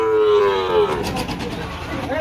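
A cow moos at a busy cattle market, one long drawn-out low call that bends downward and fades, with crowd noise and chatter behind it.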